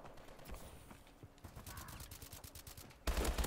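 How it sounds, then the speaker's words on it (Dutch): Distant volleys of gunfire crackle in Call of Duty Advanced Warfare, scattered shots trading from two sides, ending in a loud close burst. "ik word aan twee kanten beschoten"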